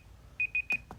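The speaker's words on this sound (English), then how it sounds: "Timer. Forgot to turn it off." A timer alarm gives three short, bright electronic beeps in quick succession, followed by a couple of soft clicks, close and otherwise quiet with no talking.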